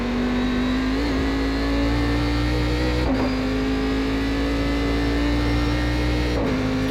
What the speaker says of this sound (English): they do sound like the NASCARs. It's the big V8 engine in it